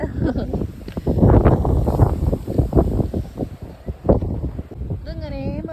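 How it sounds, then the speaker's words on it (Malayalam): Strong wind gusting across the microphone on Seaham beach in the UK, loud and buffeting throughout, with people talking over it. "ഇവിടെ വന്നപ്പോൾ നല്ല കാറ്റ്."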